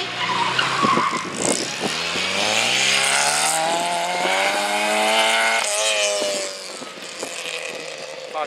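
Rally cars race at a motor show in Abrantes, Portugal, one engine loud and close, revving up through its gears in a long rising roar with tyre skids before easing off near the end.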